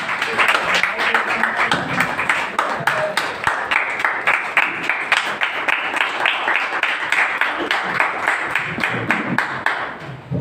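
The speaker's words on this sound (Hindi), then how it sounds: "बड़ी तालियां बजाइए।" A club's Vasant Panchami gathering applauds, a crowd clapping in a sustained, crackling wash of many hands with voices mixed in throughout.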